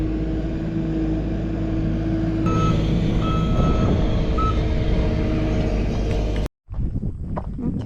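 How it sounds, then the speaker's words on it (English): A skid steer on a goat and hay farm backs up, its reversing alarm beeping in a regular rhythm over a loud, steady diesel engine rumble, which cuts out abruptly near the end before quieter outdoor sounds resume. "pick that up with a skid steer when we're ready"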